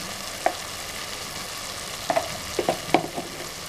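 Mutton with spices and tomato pieces sizzles steadily in a pan while a spoon stirs it, with scattered clacks and scrapes against the pan. No voices.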